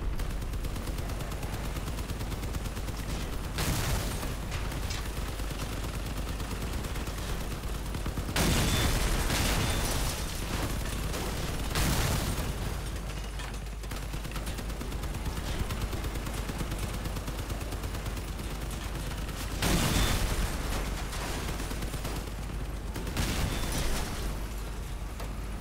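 Continuous vehicle combat from the Crossout video game: steady gunfire with repeated loud blasts and explosions at intervals, dense and unbroken throughout with no talking.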